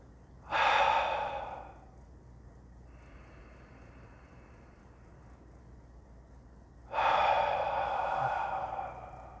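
A person takes deep, calming breaths. Two long, loud inhales or exhales are separated by a quiet pause with faint background hum.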